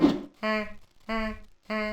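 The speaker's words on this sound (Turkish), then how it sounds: "Bu ördek sesi de oyundan geliyor arkadaşlar." Three short, nasal duck quacks from the racing video game Re-Volt, evenly spaced about a second apart, with a clean, synthetic game-like tone.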